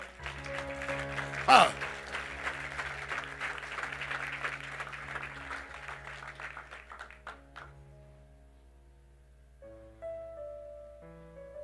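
A church congregation applauds the Lord, a brief burst of clapping and voices under a sustained organ-like tone that fades out, after which a voice speaks.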